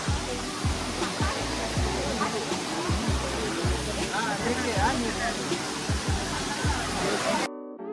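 A crowded waterfall near Emerald Pool in Thailand roars as a constant, loud wash of falling water. Voices of the crowd are mixed in, and a brief tonal sound is heard at the very end.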